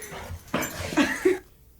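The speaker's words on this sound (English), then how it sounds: "Look how playful Gumby is back to the dog." A playful dog whimpers and yips in a few short, close bursts separated by brief pauses, ending in quiet.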